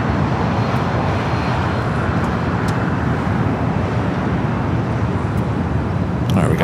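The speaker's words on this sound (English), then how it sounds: "the flight coming in from Atlanta now going to cross over at 25 right" An airliner arriving from Atlanta crosses runway 25 Right at LAX, its engines a steady, broad roar holding level throughout, with traffic-like rumble mixed in.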